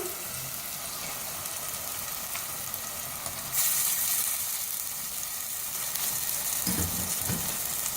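Half a kilo of goat mutton fries with masala in a pan, a continuous close sizzle that grows louder and brighter midway, with a couple of stirring knocks near the end and no speech.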